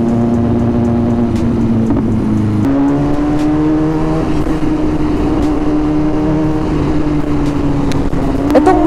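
A BMW S1000RR sport motorcycle engine while riding on the road, a loud steady high-pitched drone that holds its revs, briefly shifts up in pitch, then settles into a sustained whine, with no talking.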